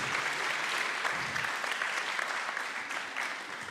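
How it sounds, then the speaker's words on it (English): An audience at a student founder showcase claps steadily and fairly loudly throughout, a dense wash of hands with no voices standing out. "Round of applause, please."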